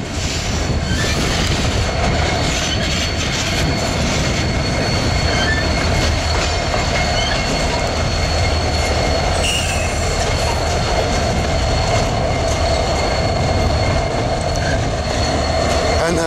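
Freight train locomotives pass close by in Pennsylvania as a loud, continuous rumble, with wheels squealing and clacking on the rails throughout.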